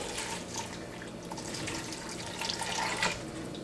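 Tap water runs steadily into a cup at a kitchen sink while beans and ham hock soup are prepared for a pressure cooker, a close, continuous splashing flow with no talk.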